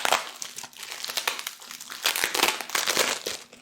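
Paper packaging on a delivered order crinkles and rustles as it is unwrapped, with dense, irregular crackling bursts that are close and fairly loud throughout and no talking.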